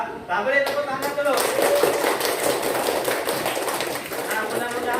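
Classroom clapping from a group of students, a dense burst of overlapping hand claps that starts abruptly and carries on steadily at close range for several seconds, with some voices mixed in.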